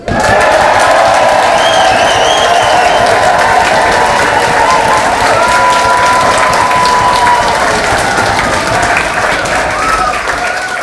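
A loud folk festival crowd applauds and cheers continuously, with whoops and shouts rising over dense clapping throughout.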